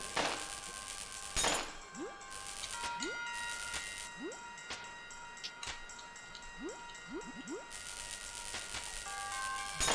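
Shattering effect in the video game Kirby 64: The Crystal Shards, bright glassy crashing bursts with tinkling sweeps and chimes layered over steady game music tones.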